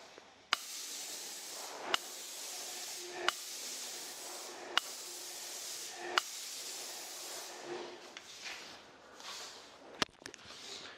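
A Graco airless spray gun fitted with a Cleanshot valve and a 514 FFLP tip sprays trade emulsion at 1800 psi, giving a steady loud hiss in repeated bursts, each opening with a sharp click, before fading into quieter handling noise.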